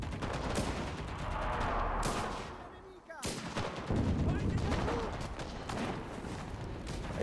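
Artillery strike in the WWII shooter Enlisted, heavy booms and crackling gunfire filling a dense battle soundscape, with a brief lull midway before the explosions and shots resume loudly.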